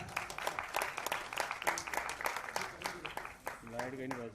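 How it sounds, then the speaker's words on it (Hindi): An audience at a ghazal album launch clapping, a brisk crackle of many hands under an emcee's voice, fading as a person speaks near the end. "एक बार जोरदार तालियां।"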